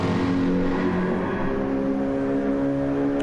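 WEC multi-class race cars running in the slipstream at Monza, a loud sustained engine roar with shifting pitch as the cars hold close together.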